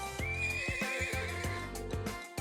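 A video game horse in Trails of Cold Steel lets out a high, wavering neigh over rhythmic clip-clop hoofbeats, loud and close with no talking.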